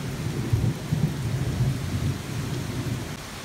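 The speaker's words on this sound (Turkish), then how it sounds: "bu yağmur bayağı ciddi" Dense, steady roar of heavy monsoon rain pouring down continuously, with low rumbling throughout and no voices.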